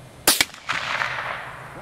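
Tannerite packed into a pumpkin target detonates outdoors as a sharp, loud blast with a quick second crack, then a rolling rumble and echo that trail off over about a second.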